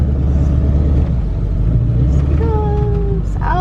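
A vehicle driven across a farm toward a field of old tractors, its engine rumbling steadily and close throughout, with a few higher whining tones near the end.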